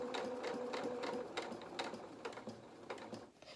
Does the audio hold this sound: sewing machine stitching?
yes